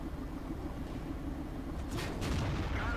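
A tank cannon firing in World of Tanks, a Hetzer tank destroyer in battle, heard as a broad boom near the two-second mark over steady rumbling battle noise, fairly loud and alone without talk.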